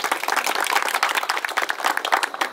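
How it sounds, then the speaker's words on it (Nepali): An audience at a district-level quiz, singing and dance competition breaks into loud, dense clapping to honour the organisers, a busy ripple of many hands that swells and pulses throughout. "त्यसको लागि आयोजकलाई हामी सबैले ताली बजाएर सम्मान गर्छौँ।"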